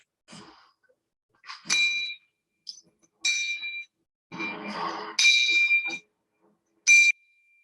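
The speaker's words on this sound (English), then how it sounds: "we should hear the bells ringing at equal intervals in time." Bells placed along an incline ring one after another as a ball rolls down it, giving bright metallic dings at roughly regular intervals, with silence between the strikes.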